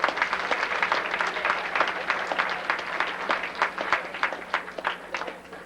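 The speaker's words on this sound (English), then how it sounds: "Round of applause, please." Audience applause at a 1994 high school awards ceremony, a steady patter of many hands clapping at moderate volume that gradually thins toward the end.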